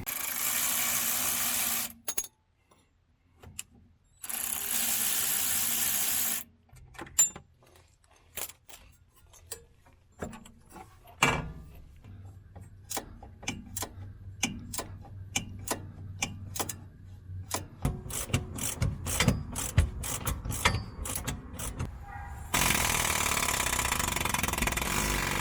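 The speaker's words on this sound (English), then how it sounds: "So I'm going to remove my rear sway bar and do a bolt check while I'm under there" Tools work on an E36 rear sway bar, with a run of sharp clicking ratchet ticks, quickening and clustered, between stretches of loud broadband noise and near-silent gaps.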